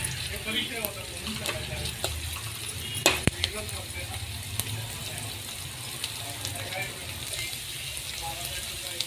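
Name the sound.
cumin, ginger and garlic frying in oil for pav bhaji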